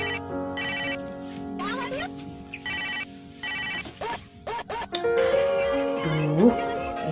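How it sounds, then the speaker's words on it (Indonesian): A mobile phone rings with a repeating electronic ringtone, loud and close in bursts throughout, while a person's voice talks over the later part. "Siapa sih yang nelpon HP ku?"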